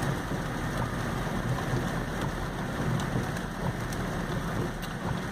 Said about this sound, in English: It's been raining.